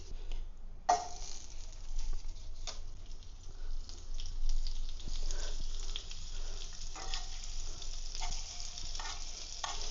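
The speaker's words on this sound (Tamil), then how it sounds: "கடாயில் கொஞ்சமாக பட்டர் போட்டு" A little butter sizzles in a kadai before paneer is fried, with a continuous moderate crackle, occasional utensil clinks and stirring scrapes over the whole stretch, with no talking.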